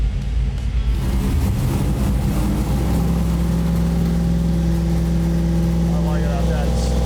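Supercharged engine in a worn-out 1972 Chevrolet C10 truck running steadily with a loud, smooth low rumble throughout, a slight rev change partway, while people talk nearby.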